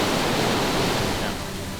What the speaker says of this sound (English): The waterfall is about 10 meters high.